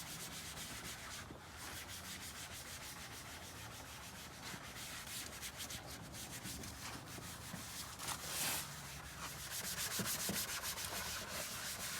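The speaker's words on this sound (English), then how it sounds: "We're pretty much done scuffing the whole plastic." Plastic truck part being scuffed with sandpaper, a continuous close rubbing and rasping sound with quick back-and-forth strokes, steady and fairly quiet throughout, without talking.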